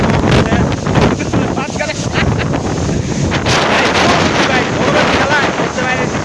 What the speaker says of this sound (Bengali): এরকম তুফান এরকম বাতাস পুরাই মাথা নষ্ট